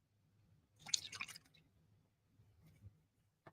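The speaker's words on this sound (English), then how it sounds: "And rinse my brush." A paintbrush is swished and tapped in a water cup, giving a short burst of faint wet squishing and clicking, then a quieter swirl and a final tap, in an otherwise quiet room.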